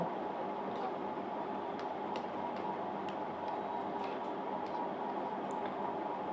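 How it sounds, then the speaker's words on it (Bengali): Boiled taro being mashed with a wooden masher, producing soft, wet squishing and faint clicking strokes over a steady background hiss, close and fairly quiet throughout. "এবার আমি ঘুটনি দিয়ে ঘুটে দেব"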